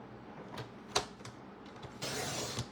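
A single sheet of paper is cut down along its 11-inch side, with a sharp click followed by a brief, steady swish of the blade through the paper. It is close and quiet, with no voices.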